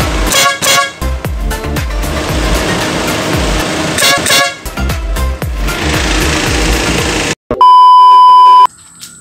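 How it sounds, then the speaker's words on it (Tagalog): A motorcycle's compact dual horn wired through a relay blares in loud, close bursts, with repeated short toots and longer blasts, ending in one sustained steady honk. "napakalakas po ng ano natin, ng ating compact horn"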